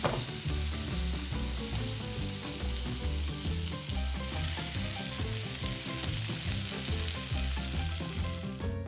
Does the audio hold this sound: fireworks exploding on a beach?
no